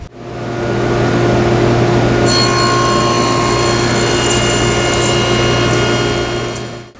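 Table saw spinning up and cutting wooden end rails with a miter gauge, a loud steady whine that sharpens as the blade bites into the wood, then winds down at the end.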